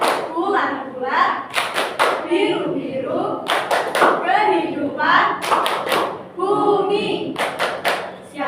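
A classroom of students claps together in a rhythmic chant pattern, sharp bursts of claps grouped between chanted lines, loud and close, with voices chanting over and between the claps.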